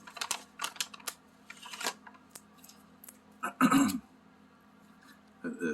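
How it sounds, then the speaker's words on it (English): A plastic cough drop bag crinkles in short, irregular bursts close to the microphone, with quiet pauses between rustles. "It's the sound of the cough drop bag."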